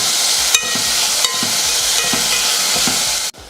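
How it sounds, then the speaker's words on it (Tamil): Three tomatoes sauté in a hot pan with turmeric, giving a loud, continuous close-up sizzle with a few faint stirring scrapes before the sound cuts off abruptly. "அடுத்து இதில் தக்காளி சேர்த்துக்கலாம் மூணு தக்காளி இதையும் நல்லா வதக்கிடலாம்"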